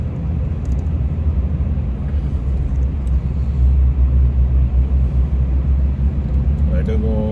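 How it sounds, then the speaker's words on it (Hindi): Heavy Friday car traffic in a jam on a motorway approach, a constant low engine rumble and road drone heard from inside a vehicle, with faint voices beneath and a brief higher whine near the end. "काफ़ी तगड़ा ट्रैफिक है।"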